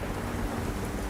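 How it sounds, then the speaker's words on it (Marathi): Heavy rain pours down steadily in a strong, gusting wind, a dense, constant roar with no voices, in a village hit by a landslide in Irshalwadi, Raigad. "इथे मुसळधार पाऊस आणि सोसाट्याचा वारा आहे"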